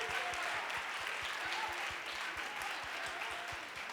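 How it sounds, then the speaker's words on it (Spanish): Audience at a corporate gala event applauding to welcome a performer onstage, a steady dense wash of clapping from a crowd, even and sustained throughout. "yo quiero que recibáis con un fuerte aplauso"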